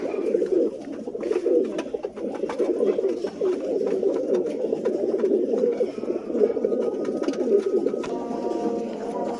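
A pair of Teddy pigeons coo steadily at close range, a low continuous burbling that runs throughout with no talk over it.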